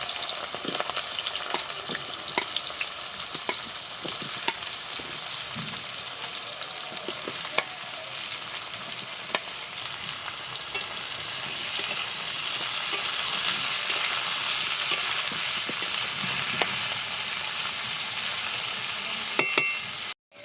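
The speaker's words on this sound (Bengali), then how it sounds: "এঁচোড়গুলোকে কড়া করে ভাজবো" Jackfruit pieces frying hard in mustard oil in a kadai: a continuous, close, dense sizzle with occasional stirring scrapes, steady throughout and without speech.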